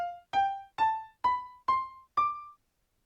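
Short melody in D Dorian mode, six single plucked notes stepping upward in an even rhythm, each ringing briefly and decaying, clear and alone.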